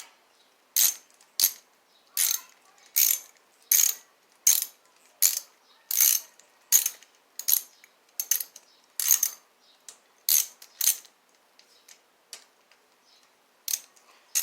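A hand ratchet snugs bolts on the valve caps of a Yamaha XJ700X motorcycle engine, giving a long run of sharp, close, evenly spaced clicking strokes in quick bursts, pausing near the end before a final few clicks.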